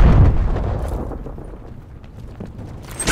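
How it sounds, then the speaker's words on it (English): An incendiary grenade in Call of Duty: Black Ops Cold War bursts with a loud, deep blast at the start, then a rumbling burn that slowly fades, with a sharp crack near the end. "Throwing incendiary."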